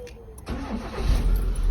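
A Hyundai car engine cranks and catches after a fuel pump hose repair, the starter whir giving way to a loud, steady running rumble close by.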